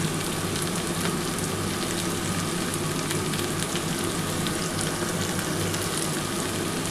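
Potato and bitter gourd frying in oil with turmeric and salt, a steady loud sizzle and crackle that runs unbroken with no talk.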